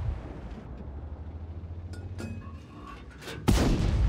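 A World of Tanks tank cannon fires with a sudden loud broadband blast near the end, following steady low engine rumble and scattered distant shots.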